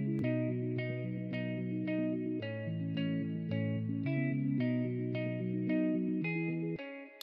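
A synth melody made in FL Studio plays steady, reverb-tinged chords with evenly spaced plucked notes on top, warm and slightly hazy, with no voices.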